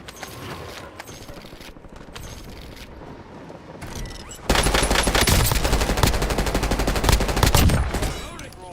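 Gunfire in the video game Call of Duty, a dense burst of rapid automatic shots close up, following quieter game sounds.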